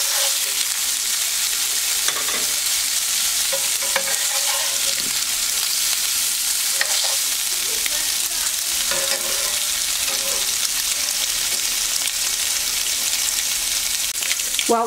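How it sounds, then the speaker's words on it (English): Cubed Spam or ham in a pan gives a steady, loud frying sizzle that runs through the whole clip, with occasional clicks and scrapes of stirring and no talking. "I've just cubed it up, and we're just going to give this a quick little fry."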